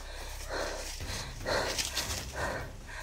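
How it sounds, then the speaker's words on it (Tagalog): A dog barks in a few rough bursts, fairly close, over a steady noisy background with no talking. "May aso brad, may aso."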